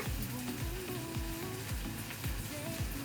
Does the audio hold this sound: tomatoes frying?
yes